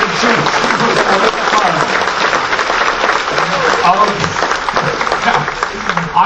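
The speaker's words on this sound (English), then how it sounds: "Give them both a nice round of applause." A cruise-ship magic show audience applauds two volunteers with loud, continuous, close clapping that holds evenly for the whole stretch, with a voice faintly audible underneath.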